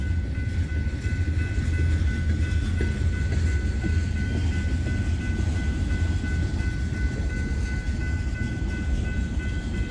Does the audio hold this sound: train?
yes